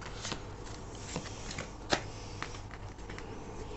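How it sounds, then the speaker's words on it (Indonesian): A tarot deck is shuffled and cards are drawn, giving a run of soft riffling flicks and snaps at close range, with one crisper card slap near the middle. "kita akan ambil 3 kartu lagi ya"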